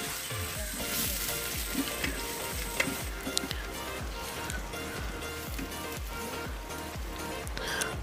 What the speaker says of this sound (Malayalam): അപ്പോൾ നമുക്ക് ഉള്ളി ഒന്ന് വഴറ്റിയെടുക്കാം.